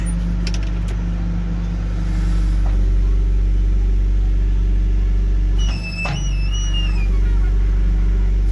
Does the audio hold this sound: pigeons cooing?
no